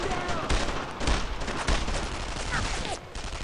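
Squad gunfire in Brothers In Arms: Road to Hill 30, with fire and assault teams shooting together; loud, continuous rifle and machine-gun volleys with sharp repeated cracks throughout.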